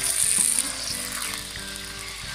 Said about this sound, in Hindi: चिकन को अच्छी तरह फ्राई करना है।